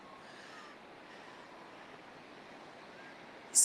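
Waves rolling onto a seashore, a steady broadband wash of surf with continuous soft hiss and no distinct breaks, moderately faint and unbroken by talk, ending with a brief sharp high noise.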